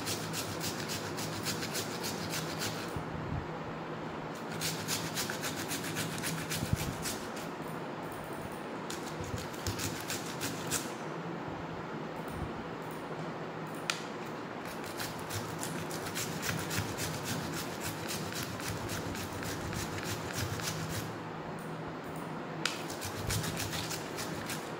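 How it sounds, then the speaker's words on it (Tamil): Onion being scrubbed or grated by hand, a continuous dry rasping and rubbing texture with short gaps between strokes, close and steady, with no talking. "வெங்காயத்தை நல்லா ஸ்க்ரப் பண்ணிவிட்டு எடுத்துக்கலாம்."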